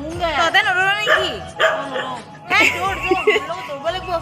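A running dog gives short bursts of barks, yips and whimpers close by, while a person shouts loudly over it.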